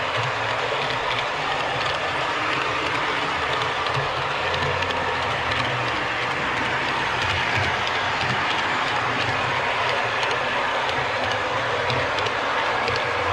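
A model train rumbles steadily along its layout track with a continuous whirring hum and faint clicking, close and unbroken throughout.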